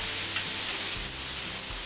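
Chicken breast sizzles steadily while blackening in a hot pan for tacos, a continuous close hiss of frying with faint ticks and no talking.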